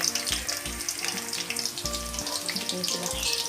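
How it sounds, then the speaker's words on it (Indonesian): Chicken pieces fry in hot oil with a dense, continuous hiss and crackle, heard close up alongside faint background music. "Nah, ayamnya digoreng seperti ini."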